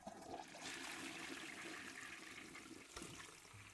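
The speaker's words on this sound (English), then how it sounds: "I do have a toilet flush, though." A toilet flush played from a soundboard rushes loudly and steadily for several seconds, then ends in a gurgling drain near the close, with no talking over it.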